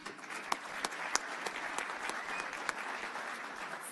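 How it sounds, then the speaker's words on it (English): A town board meeting audience applauds a former Hempstead town clerk, a moderate, fairly distant patter of clapping with a few sharper individual claps standing out, steady throughout the short stretch. "Please join me in a round of applause for former Hempstead Town Clerk"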